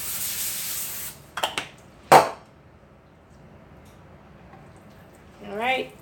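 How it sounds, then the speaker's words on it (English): A short aerosol cooking spray hisses onto an aluminum-foil-lined pan in a quick burst, after a couple of clattering knocks; a voice speaks briefly near the end. "Got to spray this pan because I used aluminum foil here."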